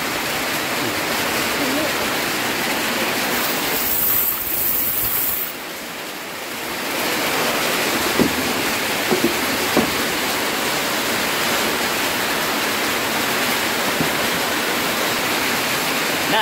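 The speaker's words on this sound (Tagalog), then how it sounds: "Hindi kami makalabas mga ka-tubers kasi grabe ang ulan." Heavy rain pouring down hard in the Philippines, a loud, roaring wash like a waterfall that briefly dips around the middle before resuming, with a few faint knocks over it.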